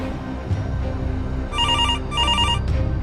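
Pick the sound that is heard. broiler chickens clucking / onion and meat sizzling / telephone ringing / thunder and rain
telephone ringing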